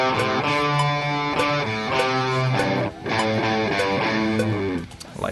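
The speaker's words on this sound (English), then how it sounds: "Now if you hear only the root notes, they sound like this." Distorted electric guitar playing only single root notes, a chugging riff of sustained notes with a short break in the middle, loud and alone without any voices.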